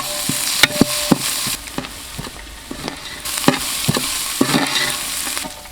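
Carrot stirred in a pan with ginger and garlic paste, a steady sizzle of frying with sharp scrapes and knocks of a spoon against the pan at irregular intervals, close up and with no talk.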